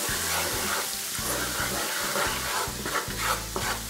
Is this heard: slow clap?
no